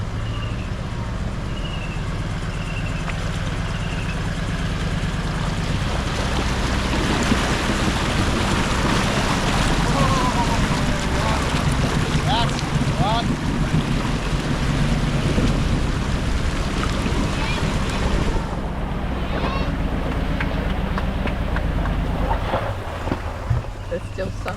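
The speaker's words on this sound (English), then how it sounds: "Oh, the big V8 petrol. That's a happy boy." A big V8 petrol engine rumbles steadily in a vehicle on the CREB Track in Cape York, a continuous low drone mixed with heavy wind noise that holds for the whole stretch.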